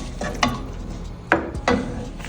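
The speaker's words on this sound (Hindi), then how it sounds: "प्याज को हमने ब्राउन नहीं करना, बस हल्का सा सौते करना है" Onions are lightly sautéed in a pan, their soft sizzle broken by a few sharp scrapes of a spoon stirring against the pan, close and moderately loud, with no speech.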